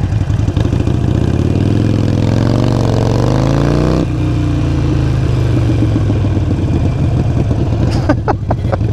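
A Harley-Davidson Iron 883 Sportster motorcycle engine revs loudly up and down, then settles into a steady idle, with a few sharp crackles near the end.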